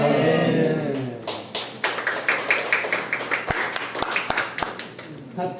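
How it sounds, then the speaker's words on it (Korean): A church congregation clapping in rhythm during a Sunday service, steady claps at an even beat following singing, with a voice heard near the start. "박수 치지 마소."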